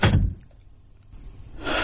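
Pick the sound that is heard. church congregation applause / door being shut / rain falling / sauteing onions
door being shut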